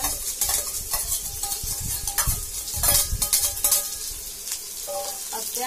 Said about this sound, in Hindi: देख सकते हो मैं प्याज को डाल देती हूँ